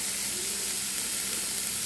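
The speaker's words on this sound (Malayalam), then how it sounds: "ഇനി നമുക്ക് ഈ പാലക്കിന്റെ അരിഞ്ഞു വെച്ചിരിക്കുന്ന പാലക്കെല്ലാം ഇട്ട് കൊടുക്കാം" Chopped spinach is tipped into a pan of softened tomatoes over a medium flame and sizzles steadily with a close, even hiss. No one speaks.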